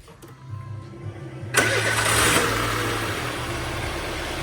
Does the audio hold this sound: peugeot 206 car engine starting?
yes